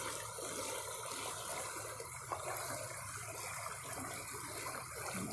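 Floodwater rushes through a normally tiny creek swollen into rapids during flooding in Findlay, a steady broad roar of churning water heard from the bank, continuous and fairly distant, with no voices.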